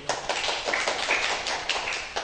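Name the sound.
audience clapping for guests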